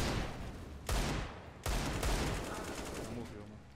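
Dense automatic gunfire from the game CS:GO, with two sharp bursts cutting through a sustained loud clatter that fills most of the short stretch.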